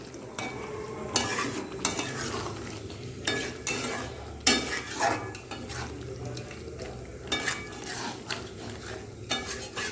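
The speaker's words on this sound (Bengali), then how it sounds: "এবারে আমি খুব সুন্দরভাবে নাড়াচাড়া করে নেব" A spatula stirs chicken do pyaza with fried onions in a pan, repeated scraping and clinking strokes over a low steady sizzle, close and fairly loud.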